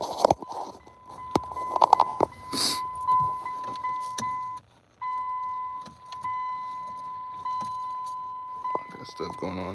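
A Dodge Journey with a faulty TIPM idles with its engine running, a steady low hum under a persistent chiming warning tone, with clicks, taps and a brief dropout in the middle.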